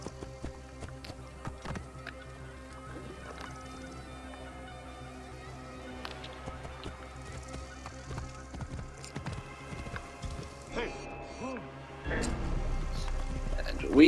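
Horse hooves in Assassin's Creed Origins, rhythmic clip-clop under a busy game soundtrack with a voice talking, the hoofbeats growing louder and denser toward the end as the horse picks up pace.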